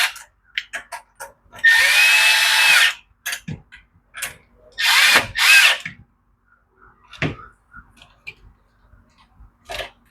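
Power drill tightening bolts during a Predator engine Stage 1 upgrade, with two loud sustained whirring bursts amid many short clicks and clanks of tool handling nearby.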